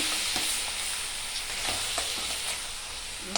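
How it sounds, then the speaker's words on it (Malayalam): Crab stirred into a hot pan of fried chili and coriander masala for crab curry, a loud continuous sizzle broken by repeated scraping strokes of the spoon, close up and without speech. "ഇനി ഇതിലേക്ക് നമുക്ക് ഞണ്ട് കുടഞ്ഞിട്ട് കൊടുക്കാം നല്ലതുപോലെ ഇളക്കണം"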